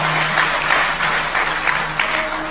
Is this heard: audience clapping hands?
yes